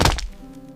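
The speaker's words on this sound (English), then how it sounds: "Pope Adrian IV collapsed to the stone floor." A single heavy thud close by as a body collapses onto a stone floor, a dull impact that rings briefly and fades into silence.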